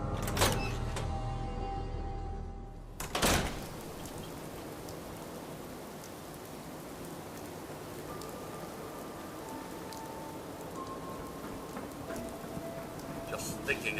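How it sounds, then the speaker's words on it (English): Steady, hissing rainfall in the video game Fallout 4 fills the whole stretch at an even level, with a louder rush and a couple of dull knocks around the third second. "Just thinking how wonderful it'd be to get out of this infernal rain."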